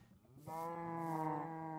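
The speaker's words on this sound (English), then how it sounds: "Look at all these cows." Cows mooing in the video game Minecraft, sustained drawn-out lowing that swells in after a quiet start and holds steady, close and fairly loud with no talk over it.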